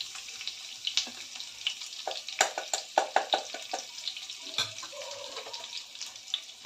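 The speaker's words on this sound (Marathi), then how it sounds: "लसूण कुटून घेतलेलं आहे ते घालते" Crushed garlic fries in hot oil with mustard and cumin seeds, a close, busy sizzle with rapid crackles and pops and a brief burst of stirring.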